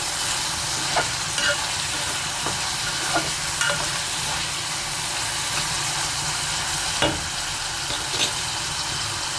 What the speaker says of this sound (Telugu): బాగా కలబెట్టుకొని చక్కగా వేగించుకొని